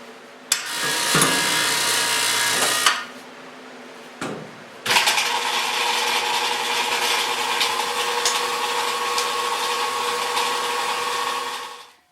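A rock saw cutting a 15 pound geode under a closed lid, a loud steady grinding whine that starts abruptly, cuts out briefly, restarts and runs evenly for several seconds before spinning down at the end.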